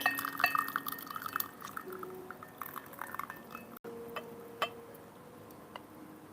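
Just-boiled water is poured gently into a teapot for aged raw puer tea, giving a soft continuous trickle with light clinks of glass and ceramic, close and fairly quiet.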